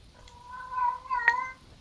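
A house cat lets out a drawn-out, wavering meow followed by a sharper second cry, fairly close and clear over a quiet room during a tabletop game session.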